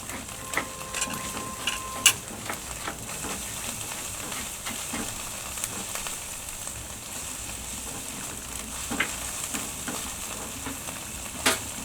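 Garlic paste sizzling and frying in a pan while being stirred for lamb dhansak, a steady close hiss with occasional scraping clicks of the spoon, no talking.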